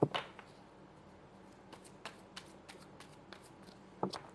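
Tarot cards being shuffled by hand in quick bursts of crisp riffling clicks, with a louder flurry at the start and another near the end, close and fairly quiet with no talking.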